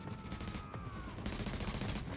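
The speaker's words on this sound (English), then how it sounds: "my fire team sending out a whole bunch of tear gas grenades" Tear gas grenade launchers firing in The Division, a video game set during a field hospital mission, with a steady burst of gunfire-like pops and whooshes over dense game ambience, a brief whistling tone trailing off midway.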